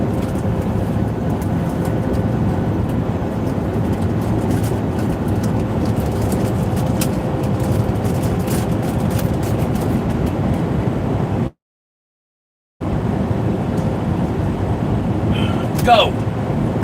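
Amtrak train passing, a continuous loud rumble and rolling rail noise that fills the clip, briefly cut to silence near the end, with a short higher squeal afterward.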